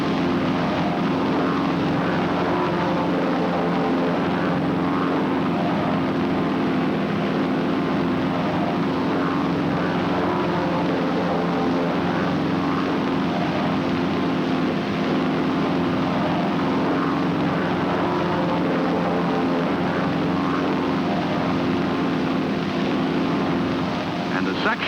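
Propeller airplanes flying in formation during pilot formation training make a loud, continuous engine drone that holds steady throughout, with no clear breaks or passes.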